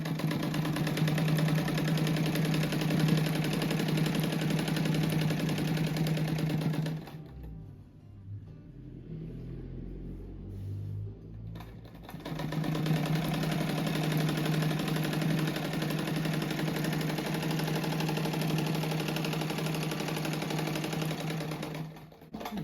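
Sewing machine stitching fabric scraps for a patchwork rug, a fast steady mechanical whirr that runs for several seconds, pauses with a few soft handling noises, then resumes just as steadily.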